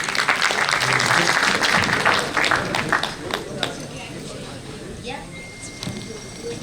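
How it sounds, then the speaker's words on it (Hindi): An audience applauds at an alumni reunion meet, with dense, sustained clapping from a crowd that gradually thins and tapers, and a few voices mixed in. "So a huge round of applause for Jaypreet."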